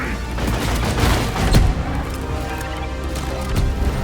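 Sticky grenade explosions in Deep Rock Galactic amid a dense, continuous barrage of booms and gunfire, loud and close with several heavier blasts standing out.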